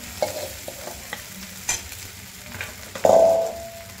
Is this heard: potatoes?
yes